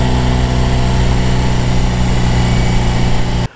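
A 1977 BMW R75/7 AirHead 750cc motorcycle engine runs loud and close with a steady, throbbing idle, cutting off abruptly at the end.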